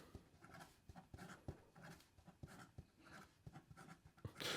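A Benu Astrogem fountain pen writes quickly across paper, giving a faint, close scratching with quick rhythmic strokes and small taps.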